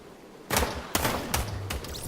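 Four sharp gunshots in Fortnite, spaced about half a second apart, each a loud close crack with a short ringing tail over a quiet background.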